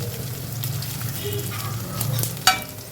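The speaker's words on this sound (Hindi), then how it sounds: "अब मैंने इसमें ग्रीन चिली डाल दिया, एक बड़ी कटी हुई" Green chili and a large cut red chili sizzle in a hot pan for a chana masala dish, a steady crackling fry with stirring and a sharp clatter near the end.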